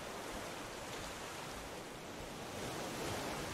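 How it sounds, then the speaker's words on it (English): Ocean waves wash steadily around a floating raft in the survival game Raft, a continuous, fairly loud broadband surf roar that swells slightly near the end, with no talking. "These waves are coming up really far over the raft."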